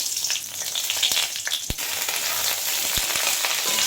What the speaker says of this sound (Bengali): এবার এতে তেজপাতা করে আর গোটা গরম মশলা দিয়ে দেবো